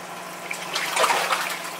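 Water sloshing and splashing in a home fish tank as a hand reaches in to grab a pet bass, a brief churning burst rising in the middle and easing off, with no talking.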